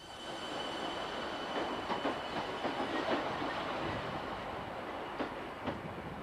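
An electric multiple unit train runs steadily with a continuous rumble and faint rhythmic clicks of wheels over rail joints, heard from on board at moderate volume.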